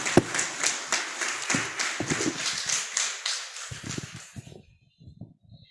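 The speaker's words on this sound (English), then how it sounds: "Can we give him a round of applause again?" An audience at a cooperative society's annual general meeting claps steadily for about four seconds, a dense patter of hands that suddenly stops, leaving a few scattered isolated claps afterward.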